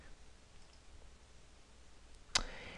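A single sharp computer mouse click sounds near the end, crisp and close, after near-silence while drawing in SketchUp.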